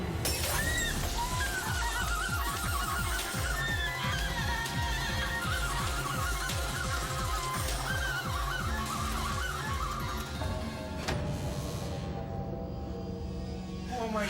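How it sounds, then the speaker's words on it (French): A photocopier's glass shatters in a loud burst at the start, followed by a dense run of crashing, clattering debris and scattered shrill cries, fading off near the end. "Quand la vitre de la photocopieuse a cédé"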